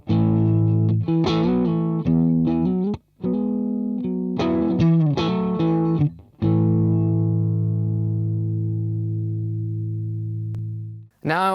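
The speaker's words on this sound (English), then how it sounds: "it's a lot more subtle kind of distortion or overdrive" An electric guitar played through a Wampler Dual Fusion overdrive pedal, gritty distorted chords and notes, ending on a long sustained chord that slowly fades.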